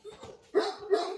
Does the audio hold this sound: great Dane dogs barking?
yes